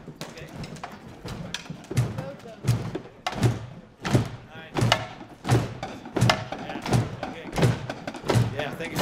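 Many people thump together on a low, heavy beat, repeating steadily about twice a second amid a noisy, rumbling room.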